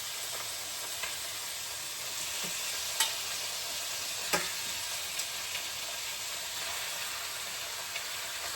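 Chicken sizzles steadily in a hot frying pan, a constant bright hiss with occasional soft clicks of a utensil stirring, heard alone and close.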